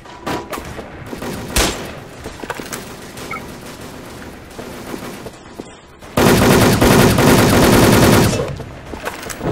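Rapid M4A1 automatic rifle fire in the online shooter Wolfteam, sharp repeated bursts through the clip that swell into a dense, loud sustained volley near the end.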